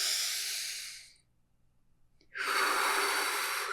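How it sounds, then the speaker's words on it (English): A deep breath taken close up: a long, loud breathy rush of air, then a pause of near silence, then a second long breath just as strong. "Just take a deep breath."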